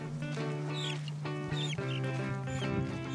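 Chickens cluck steadily and close by in rural Burkina Faso, a busy overlapping chorus of clucks and calls over a constant low hum.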